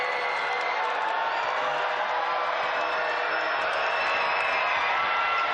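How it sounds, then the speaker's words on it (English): Basketball crowd roaring at the TSB Arena in Wellington during a Saints versus Tauranga Whai game, a loud, sustained wash of cheering and whoops filling the whole stretch without letting up. "That's some big noise coming from the TSB arena and the crowd"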